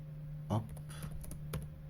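A computer keyboard clicks out a few quick keystrokes up close, with sparse taps over a low steady electrical hum.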